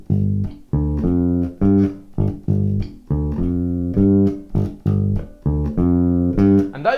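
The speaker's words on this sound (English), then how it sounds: "So we're going to create a bass line that sounds like this." A bass guitar plays a G riff built on root, fifth, flat seventh and octave notes in a bouncy repeating rhythm of short, punchy plucks, close and solo.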